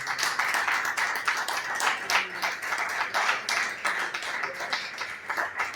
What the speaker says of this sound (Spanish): Dios un aplauso fuerte al Señor